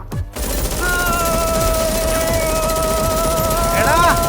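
Sustained gunfire in a movie fight scene: a dense, loud burst of automatic shots that continues throughout, with music tones and shouting layered over it.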